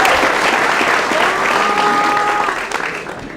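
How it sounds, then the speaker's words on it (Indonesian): Sustained applause from an audience at a campus talk show at a polytechnic in Palembang, loud and dense throughout before tapering slightly at the end, with faint tonal sounds beneath. "tepuk tangan dulu luar biasa"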